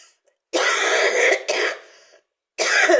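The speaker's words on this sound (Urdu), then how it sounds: "معافی چاہتی ہوں، مجھے کھانسی ہے ذرا" Harsh, forceful coughs from one person, close by: a long hacking burst, a shorter one right after, then another after a brief pause.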